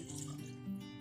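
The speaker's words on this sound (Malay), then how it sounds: "masukkan air ke dalam periuk." Water is poured into a cooking pot of rice already mixed with sautéed seasoning ingredients. It makes a soft, steady, faint splashing rush with no talk.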